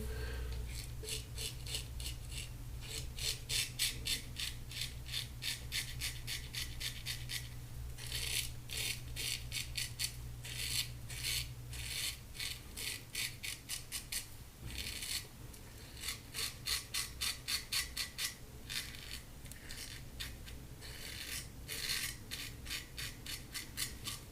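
An Ever-Ready 1924 shovelhead safety razor scrapes across whiskers, making close, rapid rasping strokes in repeated bursts with brief gaps, steady and fairly quiet throughout.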